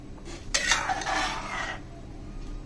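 Spiced curry being stirred in a pot, a short burst of scraping and clinking near the middle over a low, steady background hiss, with no talk.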